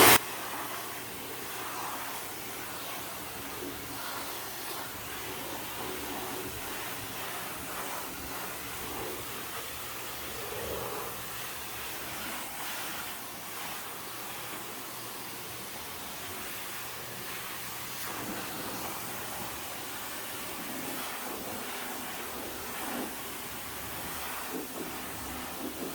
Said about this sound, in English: Now I'm gonna go right to wax.